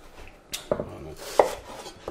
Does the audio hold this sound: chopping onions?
yes